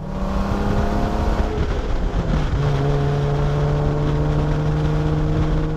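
Jeep JKU Wrangler on 37-inch tires with stock suspension, heading to an off-road park, drives steadily with a continuous engine drone and road rumble heard from inside the cab, with a gear-shift dip midway and no talking.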